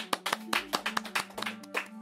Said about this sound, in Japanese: みんな拍手するとこですよ